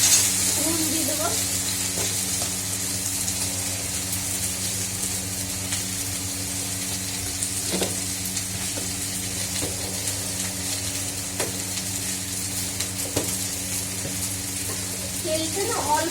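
Food sizzles steadily in hot oil in a home kitchen, a continuous hissing fry with occasional stirring clicks, heard throughout with faint background voices.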